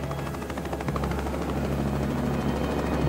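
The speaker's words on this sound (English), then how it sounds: "Rescue helicopters were soon at the crash site" Rescue helicopter over an ocean crash site, a continuous loud rotor chop with a dense rhythmic beat and steady engine roar throughout, no voices.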